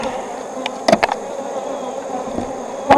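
Honey bees buzzing around an open hive during a pre-winter inspection, a low steady drone with a few louder passes of individual bees close by.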